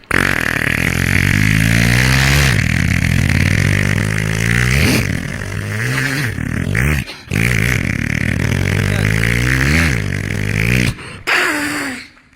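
A voice imitates a motorbike with loud, close, buzzing revs that climb and fall in pitch over several long bursts, with short pauses between them.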